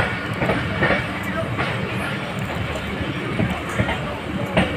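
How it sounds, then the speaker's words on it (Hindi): The Rara Express rolls out of Ghotki railway station, gathering speed with a steady rumbling roar and clickety-clack of wheels on rails, someone talking over the continuous train noise. "स्पीड पकड़ चुकी है रारा एक्सप्रेस गोटकी से"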